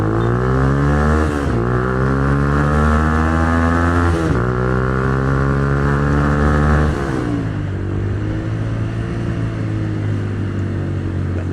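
A 2010 Minerva R150 VX motorcycle engine runs in first gear, steady loud revving hum with harmonic tones that rises and dips twice before settling to a lower idle.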